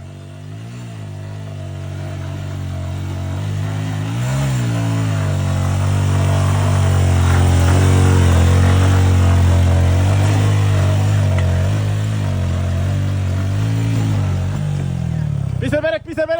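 Motorbike riding on a rough, steep mountain road near Tindu in Bandarban, a loud steady engine drone that swells and falls with throttle, with wind and voices heard over it.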